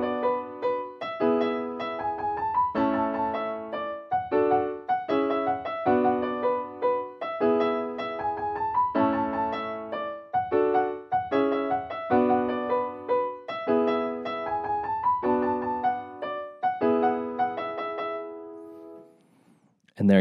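Piano playing the main riff, bright staccato chords and melody in a fast repeating rhythm, played alone and close.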